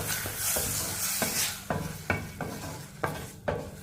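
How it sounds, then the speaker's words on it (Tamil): Chopped tomato sautéing in a pan, a steady soft sizzle broken by a run of sharp scraping and stirring strokes from a spoon against the pan, repeating about every half second toward the end, close and with no talk. "இதையும் நல்லா வதக்கிக்கிடுவோம்."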